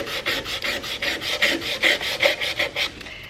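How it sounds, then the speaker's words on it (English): Sanding back-and-forth by hand on a metal cubby shelf coated in chalk paint, stripping it down to bare metal: a steady run of about a dozen close, rasping strokes, each a bright scratchy burst, with no talking. "I'm going down to bare metal on this part of this, the distressing"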